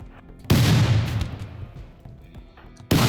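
A loud, booming gunshot in the video game RimWorld, its long rumbling tail decaying over about two seconds before a second sharp blast cuts in, close and heavy.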